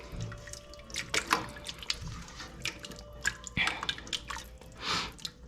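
Warm water is poured into a pot of vegan chili, giving faint, irregular splashes, drips and liquid trickling with a few louder sloshes, fairly quiet and close.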